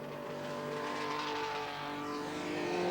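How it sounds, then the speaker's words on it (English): A touring race car at a 1980s Brands Hatch Thundersaloons race, its engine running rough with a bad misfire, heard at a distance as an uneven faint drone with no voices. "you can clearly hear that misfire"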